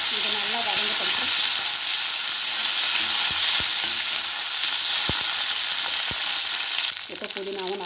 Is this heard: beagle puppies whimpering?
no